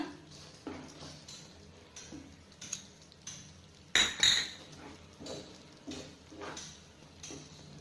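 A spoon stirs cashews and raisins into hot sugar syrup in a pan for festive laddu, with repeated scraping clinks and taps against the metal at a steady, unhurried rhythm and no speech.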